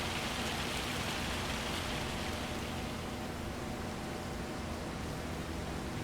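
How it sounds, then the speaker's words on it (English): Steady rain falls throughout in Farming Simulator 25, a dense, even hiss of drops on surfaces with no breaks, filling the scene alone without any talk. "let's go ahead and fast forward time until we get rid of this rain"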